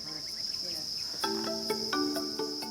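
A constant high-pitched drone of countless crickets chirping together on a cricket farm, steady and unbroken, with some faint tonal sounds in the background.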